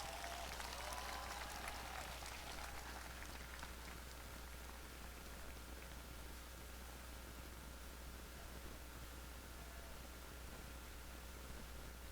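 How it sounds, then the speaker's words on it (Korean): Crowd applause at an outdoor memorial ceremony marking the fifth anniversary of President Roh Moo-hyun's death: a dense, distant patter of many hands that is strongest at the start and fades after a few seconds into a steady open-air wash. "여러분 뜨거운 박수로 맞아주시기 바랍니다"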